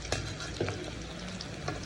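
Mutton frying for biryani, cooked until it turns red, gives a soft steady sizzle with a few stirring scrapes and clinks, fairly quiet and without talk.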